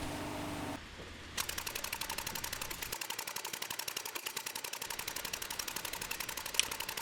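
A power hammer forges steel stock for a butcher tool, drawing it toward a 3/8 inch section with an octagonal shape. After a short pause come rapid, evenly spaced mechanical blows, close and continuous, with no voices.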